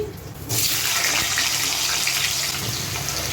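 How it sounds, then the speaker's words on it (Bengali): Pieces of cut potato dropped into hot oil in a home kitchen, a sudden loud hissing sizzle that starts close by after a brief quiet moment and holds steady to the end. "তাহলে আমার তেলটা গরম হয়ে গেছে। এবার আমি তেলে আলুগুলো দিয়ে দিচ্ছি।"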